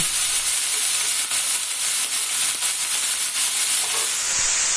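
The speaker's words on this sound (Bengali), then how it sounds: "ব্রোকলি টুকরোগুলিকে দেওয়ার পর আরও একটু লবণ দিয়ে দেবো এবার হালকা নেড়ে চেড়ে ঢাকা দিয়ে দেব" Broccoli fries in a pan with a steady, loud sizzle and hiss, and occasional scraping from stirring runs throughout with no talk.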